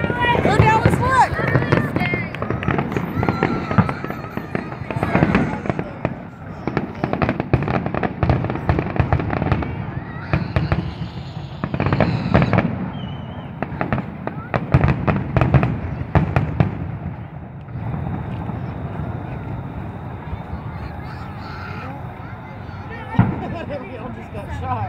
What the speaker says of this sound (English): They were popping all the firecrackers.